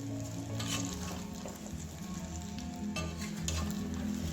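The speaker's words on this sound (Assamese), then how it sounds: "এয়া মই এনেকৈ 2-4 মিনিট ভাজি ল'ম।" Olive pickle with chilli powder frying in a pan over low heat, a steady soft sizzle with occasional stirring scrapes and spatters, fairly quiet and continuous with no talking.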